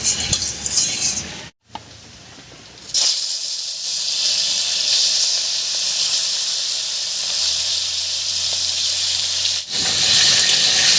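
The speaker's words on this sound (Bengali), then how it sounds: "এই তেলের মধ্যে মাছটা ভেজে দেবো" Snakehead fish frying in mustard oil in a wok, a loud, continuous close-up sizzle and hiss with brief breaks and a few stirring sounds.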